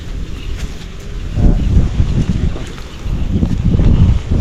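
Wind gusts outdoors on a farm, buffeting roughly across the microphone in a continuous low rumble that swells twice.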